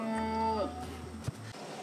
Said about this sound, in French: Donc là on entend des chèvres qui bêlent et des vaches.